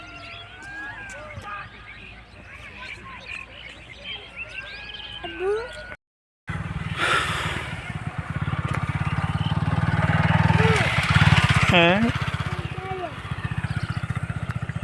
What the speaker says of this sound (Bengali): এই যে মানুষজন মোটর সাইকেল যাচ্ছে ওগুলো উপরে